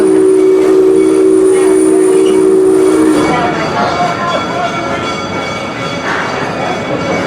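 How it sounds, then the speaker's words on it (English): An amusement park train's horn sounds for a few seconds, then the loud, steady rumble and clatter of cars rolling along the track continues as it pulls into a station at Six Flags St. Louis. "now pulling into the St. Louis train station"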